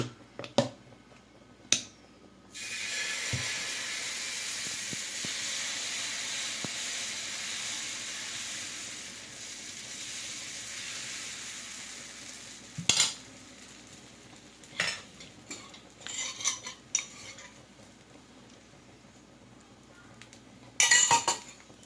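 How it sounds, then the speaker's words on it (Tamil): Chickpea dosa batter poured onto a hot pan over a medium flame gives a steady, soft sizzling hiss that lasts about ten seconds, followed by scattered clinks and scrapes of utensils. "இப்போ நல்லா சட்டி சூடு வந்துருச்சு. நம்ம தோசை மாவு ஊற்றிக்கலாம்."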